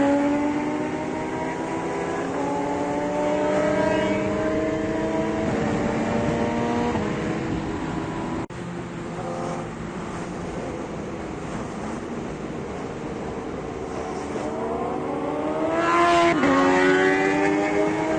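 A Suzuki GSX-R motorcycle engine revs repeatedly at a car show, rising in pitch through several sweeps, loud and close, with other engine noise around it.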